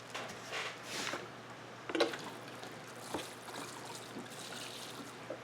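Water sprinkled over freshly transplanted seedlings, faint scattered patters and trickles in short bursts with a few light clicks in a quiet room.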